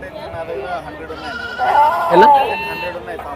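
Rams bleating at the Gudur village livestock market, including six-month-old animals. A loud, wavering bleat swells midway over steady background chatter and crowd noise from people nearby.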